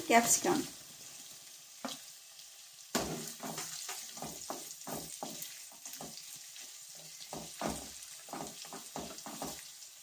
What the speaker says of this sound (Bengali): পেঁয়াজটা হালকা ভাজা ভাজা হয়ে আসলে দিয়ে দিচ্ছি